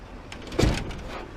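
A heavy-duty truck cabin compartment door on stout hinges swings shut gently without slamming, giving a single soft close with a brief rubbery latch thud, near and fairly quiet.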